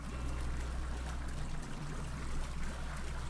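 Murky marsh water bubbling in the bayou area of the game West of Dead, a steady low churning gurgle with faint trickling over a constant hum, continuous and unbroken throughout.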